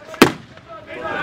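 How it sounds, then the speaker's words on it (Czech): A cannon is fired at an open day, a single loud close boom with a sharp onset that quickly fades into crowd noise and voices. "teraz vystřelit dělo, to bude šupa"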